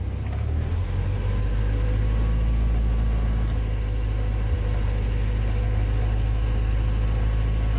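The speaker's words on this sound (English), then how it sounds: "we're pulling the tractor, and we're going to rev up the engine a little bit and it'll go faster" A tractor engine drives a Ramsey PTO winch during a pull, revving into a loud, steady, close droning rumble that holds without a break.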